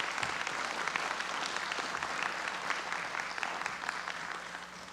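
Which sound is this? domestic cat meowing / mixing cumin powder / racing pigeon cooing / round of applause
round of applause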